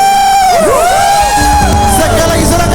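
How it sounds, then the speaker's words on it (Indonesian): A church congregation at a Sunday worship service cheers and shouts joyfully, loud whoops and yells rising and falling over a crowd roar, with sustained musical tones underneath. "sukacita sorakan"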